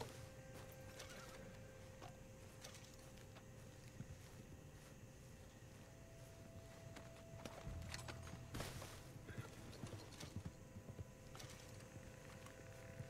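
Horse in the Red Dead Redemption 2 video game, a whinny followed by soft clip-clopping hooves and shuffling steps, moderately close over a faint windy outdoor ambience.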